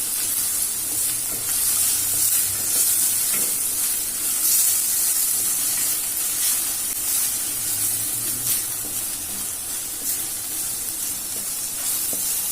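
Green chili paste sizzles steadily in a hot pan while being sautéed for hara bhara kabab, a bright continuous hiss with occasional stirring scrapes, close up and without talk.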